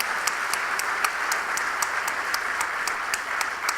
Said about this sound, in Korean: 우리 박수 한번 크게 한번 하십시다.